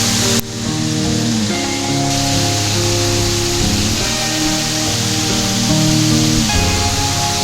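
Ngesong waterfall, a loud continuous rush of falling water that starts abruptly and holds steady, with a low musical hum running underneath.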